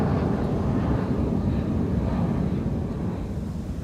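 A Transavia Boeing 737 at Amsterdam Schiphol Airport gives off a steady, deep engine rumble that fills the short stretch without a break.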